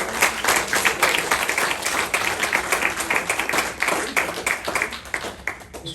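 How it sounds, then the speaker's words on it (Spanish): A church congregation breaks into sustained, dense applause with continuous clapping and some crowd noise, steady and fairly loud throughout. "Denle un fuerte aplauso al Señor."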